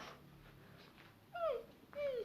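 A person mimics a dog's whimper with two short, high, falling whines after a quiet stretch, the second slightly longer.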